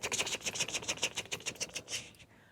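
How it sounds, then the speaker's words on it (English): Quiet, rhythmic scratching of a pencil moving quickly across paper, a steady series of short strokes heard up close. "Or you can hear the pencil."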